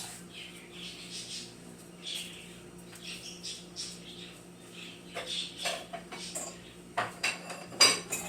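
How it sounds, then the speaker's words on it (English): Dishes are handled in a kitchen while a bowl for wet baking ingredients is fetched, with scattered clinks and clatter that grow busier and louder toward the end, alongside faint chirping sounds. "I'm going to get a bowl for the wet ingredients"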